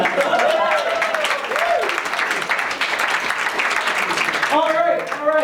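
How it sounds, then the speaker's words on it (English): Applause from a small group at a Halloween party, continuous clapping mixed with lively voices and a shout or two, moderately loud and close. "Round of applause for that."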